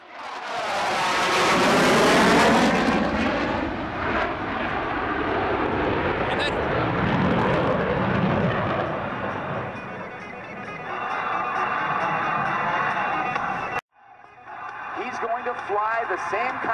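A 600-horsepower naval propeller airplane engine roars loudly during a flyby at the NAS Oceana airshow, swelling and fading as it passes, with a commentator talking over it.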